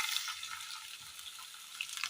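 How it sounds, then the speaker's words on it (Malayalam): Grated coconut frying in a little oil in a pan on the stove, a steady close sizzle with soft stirring scrapes throughout and no talking. "എണ്ണയിലേക്ക് തേങ്ങ തിരുമ്മിയത് ഇട്ട് കൊടുക്കാം."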